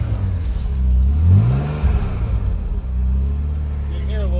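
A BMW E46 freshly fitted with a replacement engine idles and revs with a steady low rumble, and faint pops sound from the exhaust. Voices talk over it at times.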